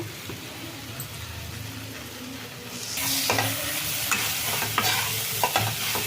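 Okra frying gently in a pan on low heat, a steady close sizzle that grows louder halfway through, with a few stirring scrapes near the end.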